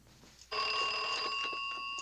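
An old-fashioned telephone bell in a 1956 crime film starts ringing abruptly after a quiet moment, a continuous metallic trill that keeps going, fairly close and alone.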